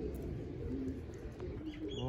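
Pigeons cooing from a rooftop loft, soft low repeated coos under steady background noise with a few faint chirps, no speech.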